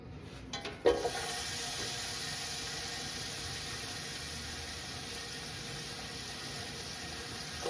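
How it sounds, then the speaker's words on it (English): Onion and tomato hitting very hot avocado oil in a big soup pot, with a brief clatter and then a steady, even sizzling hiss that carries on alone throughout. "I'm getting it super hot and I'm gonna throw in the onion and the tomato."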